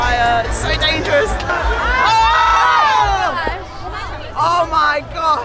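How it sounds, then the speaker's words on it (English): A large crowd yells and shouts at a night sky lantern festival as burning lanterns fall, a dense, loud babble of many voices with rising cheers and cries throughout. "The whole crowd starts yelling like, watch out, watch out!"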